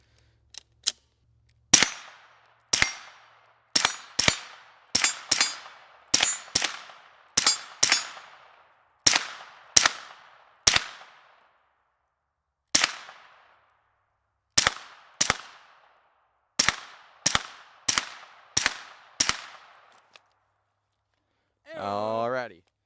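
Around twenty sharp gunshots from a Flux Raider pistol, fired one at a time in an uneven rhythm with brief ringing decays and short pauses, followed by a brief voice at the end.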